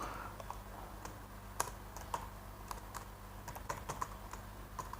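Quiet, irregular clicks of fingers typing on a computer keyboard, with short bursts of keystrokes spread across a faint background.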